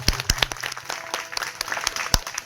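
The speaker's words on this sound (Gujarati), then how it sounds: "એકવાર જોરદાર તાળીઓથી આ ભાઈને વધાવી દો" An audience at a meet-up breaks into loud applause for a performer, a brief burst of many sharp overlapping claps, close and lively, with no talking.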